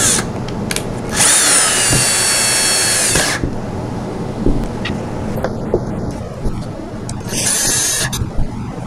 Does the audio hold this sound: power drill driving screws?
yes